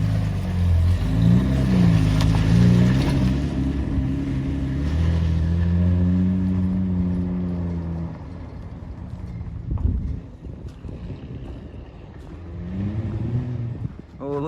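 A rebuilt Valiant pub truck revs hard, its engine note rising and falling loudly and close, then easing off into rougher rumbling with brief tyre-spinning bursts toward the end.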